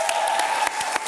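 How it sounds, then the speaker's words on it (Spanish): Applause from a television talk show's studio audience, a short burst of dense clapping with a few sharper individual claps standing out. "¡Aplaudan, muchachos, todos! ¡Aplaudan!"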